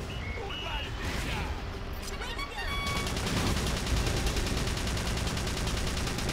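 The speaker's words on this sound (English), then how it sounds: "return fire to them then" Sustained video game gunfire from a Battalion Wars battle, a dense rattling fusillade of rapid shots that grows louder and steadier partway through, with mechanical clatter and faint voices in the mix.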